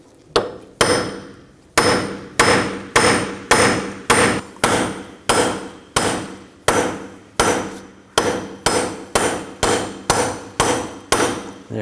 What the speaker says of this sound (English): I'm going to take a punch and a hammer. Just try to tap the axle free from the hub.